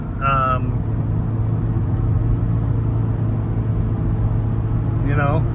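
2014 Toyota Prius V hybrid accelerating up a freeway on-ramp, a steady low road and engine rumble inside the cabin, with someone talking briefly at the start and end.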